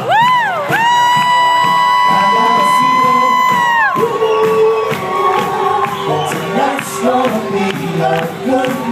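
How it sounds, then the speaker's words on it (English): A wedding reception crowd cheers and whoops as the newly married couple enters, a sustained loud shout leading into a busy mix of cheering, voices and music, with the noise staying high throughout. "put your hands together. Come on, make some noise, everybody."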